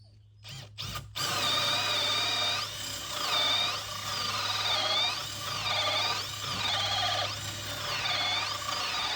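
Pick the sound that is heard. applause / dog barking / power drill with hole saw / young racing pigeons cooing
power drill with hole saw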